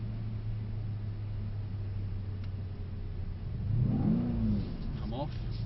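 Mercedes C63s engine droning steadily while drifting with wheels spinning, rising into a louder rev surge near the end, with voices talking over it.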